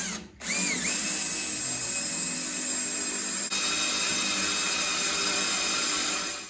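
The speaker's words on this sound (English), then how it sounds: "I'm gonna start with a small bit. Just kind of where I center punched it at" A power drill spins up with a small bit, boring a pilot hole at a centre-punched mark during a diesel fuel kit install on a Ford 7.3 truck. The high, steady whine runs close and loud, with one brief dip midway.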